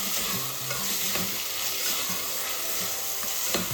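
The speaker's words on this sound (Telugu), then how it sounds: "కరివేపాకు, కొంచెం పుదీనా వేసి బాగా కలుపుకోవాలండి" Coriander, curry leaves and mint being stirred into a frying pan, a soft continuous sizzle with light scraping and stirring taps close by.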